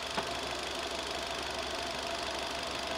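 A car engine running while the clutch is held half pressed, a steady low rumble with a faint knocking vibration and one brief click near the start.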